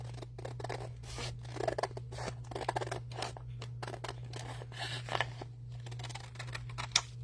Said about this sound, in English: I'm going to cut right along there